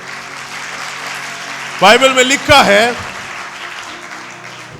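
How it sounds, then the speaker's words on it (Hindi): A congregation claps for the Lord during a Hindi-language Christian sermon, the steady patter of many hands running beneath a preacher's loud, brief spoken line. "ताली बजाएं खुदावंद के लिए"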